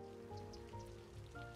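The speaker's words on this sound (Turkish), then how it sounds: "Yağmur yine başladı." Rain falls in the city-building game Cities: Skylines, a quiet, steady patter of drops on surfaces with a faint tonal background underneath and no talking.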